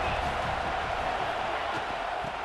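Stadium crowd noise in an Alabama versus Florida college football video game, a dense steady roar of many voices at constant loudness with a low rumbling undertone.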